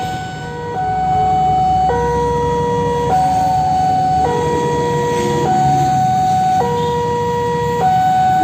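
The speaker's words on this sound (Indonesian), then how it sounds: "Beda ya suaranya ya, tuh kan, suara sirenenya beda kan?" Automatic railway level crossing siren in Jember, a loud two-tone wail switching pitch steadily about every second over a low background rumble, with no talking.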